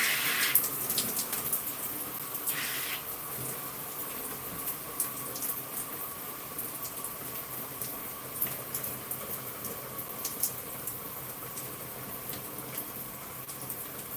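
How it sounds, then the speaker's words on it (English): Water runs and splashes steadily from a tap during a hair wash day, a soft continuous trickle with small bursts and spatters, fairly faint and without voices. "let me put on a little bit of water here"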